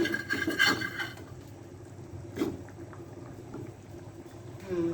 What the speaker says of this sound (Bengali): এখন সিদ্ধ হওয়া পর্যন্ত অপেক্ষা করব, ঝোলটাও কমে যাবে।